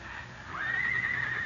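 A pony gives a single long, rising whinny that holds steady above a low background hum, as a sound effect in an old radio western drama.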